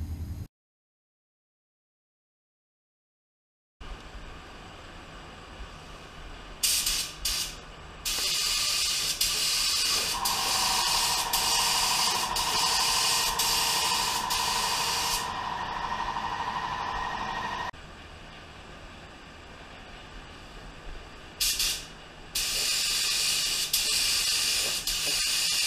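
A spray gun with a 1.7 tip shooting clear coat onto a car, heard as a loud, close, steady hiss in long bursts with short breaks between passes, after a few seconds of silence at the start.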